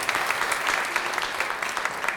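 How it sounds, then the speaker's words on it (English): Short spell of audience applause during a music class, a continuous rustle of many hands clapping at moderate volume, with no one talking over it. "Let's have some applause, please, for this."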